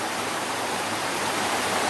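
Waterfall on a hiking trail near Tepoztlán, Morelos, Mexico, at the height of the rainy season, roaring as a loud, unbroken broadband rush with no voices.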